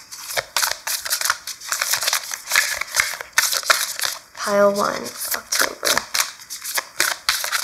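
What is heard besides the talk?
pulling and shuffling tarot cards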